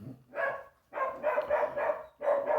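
A dog barking up on a balcony, several bursts of mid-distance woofs in quick groups separated by short pauses, with no talk over them.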